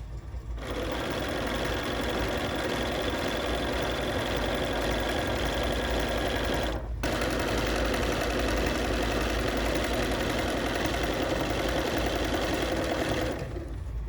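A sewing machine stitching gathers into a bridal veil runs in a steady, close mechanical whir that stops for a brief instant midway, then carries on until it halts near the end.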